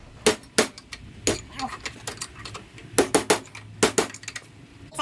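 Sharp metallic hammer blows drive an old bushing out of a two-tooth Gemmer steering box, coming in irregular bursts of close, ringing clinks, often in quick pairs or triplets.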